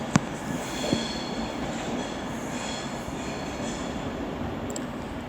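A Class 350 electric train from Tring rolls into London Euston station, its wheels clicking and squealing faintly over a steady rail rumble, with the station's ambience around it.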